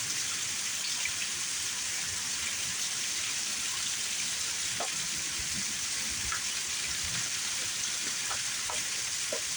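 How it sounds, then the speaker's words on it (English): Heavy rain pours steadily through a thunderstorm as the wind shifts, a dense continuous hiss with scattered louder drops and splashes close by, no thunder standing out. "all the rain is going this way now"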